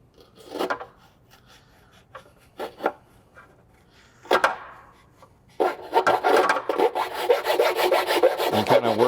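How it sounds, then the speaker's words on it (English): A small Snap-on 3/16 round file works a hole in carbon fiber: a few short, separate rasping strokes, then steady rapid back-and-forth filing, close and fairly loud. "This is a little snap-on, I think it's 3/16 round file."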